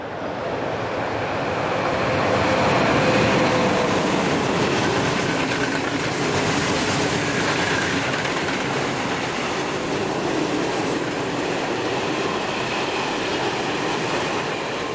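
Freight train hauled by locomotive number 229 rolling past, a loud continuous rumble of wagons with rhythmic wheel clatter and some squeal, swelling early then holding steady, with no voices.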